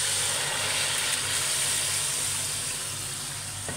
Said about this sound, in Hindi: अब इसके अंदर मैं अपनी ये दाल शामिल करने लगी हूँ।